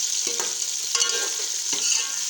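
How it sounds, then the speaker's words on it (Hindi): Tomatoes, potatoes and peas tipped into onions frying in oil, a loud bright sizzle that flares up with each addition and continues steadily. "अब हम इसमें ये टमाटर डालेंगे, ये आलू डालेंगे और ये मटर डालेंगे"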